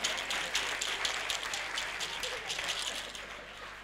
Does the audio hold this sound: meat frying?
no